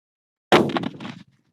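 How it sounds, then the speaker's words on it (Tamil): A single sharp bang after silence, followed by a short crackling burst that quickly dies away. "வேற லெவல்ல வெடிச்சுதுடா டேய்."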